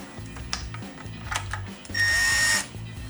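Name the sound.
drill driving bolt for reverse light on low torque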